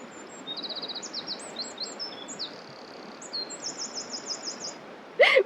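Birdsong outdoors: a series of high, thin chirps and trilled phrases repeating at a moderate distance over a steady background hiss, ending with a louder, closer burst of calls.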